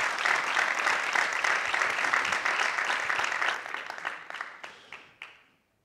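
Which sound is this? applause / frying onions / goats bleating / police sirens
applause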